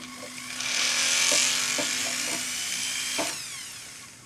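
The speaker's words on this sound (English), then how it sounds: "Take your 4mm round burr and just tidy up the edge of this hole." Rotary tool spinning a 4mm round burr against metal to tidy the edge of a stone setting hole in gypsy-set jewelry, a high steady whine with a few short scraping touches, close and clear.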